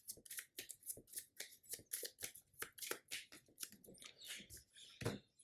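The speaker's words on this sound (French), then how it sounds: "Je remélange." A deck of Marvel Champions cards being shuffled by hand, a rapid run of crisp riffling bursts close up, repeating in quick rhythm for several seconds with a final sharper snap.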